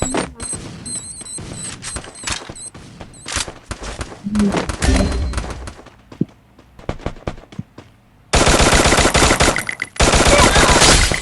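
Rapid gunfire bursts in the mobile shooting game Free Fire, loud rattling volleys broken by pauses, ending in a long sustained stream of shots, with a player's voice talking over parts of it.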